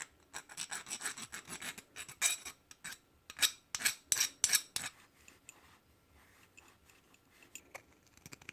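Copper pipe end being cleaned before flux and solder, a close, fast rasping scrub in quick bursts that stops after about five seconds, followed by quiet faint handling.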